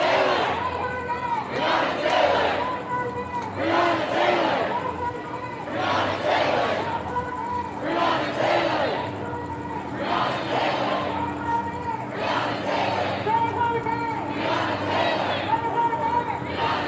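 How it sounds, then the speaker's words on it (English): Protesters at a Breonna Taylor Black Lives Matter rally in Riverside, California, chanting "quit your job, save a life" in unison, loud rhythmic phrases repeating about every two seconds over a murmuring crowd. "They're saying quit your job, save a life."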